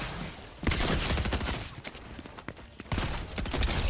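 Rapid bursts of gunfire in a shooting fight in a Fortnite-style video game, loud clusters of cracking shots that come and go over a few seconds, with no talking.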